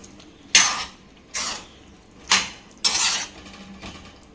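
Mushroom gravy cooked mutton-gravy style is stirred in a pan with four distinct, fairly loud scraping strokes of a utensil against the metal, separated by short pauses.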